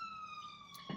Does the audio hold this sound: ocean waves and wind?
no